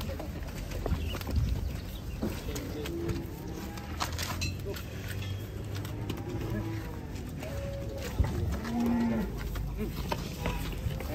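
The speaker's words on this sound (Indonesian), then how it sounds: "Sapi." Cattle moo several times, low and drawn out, while being loaded onto a truck, amid a busy outdoor background with clopping hooves and people talking.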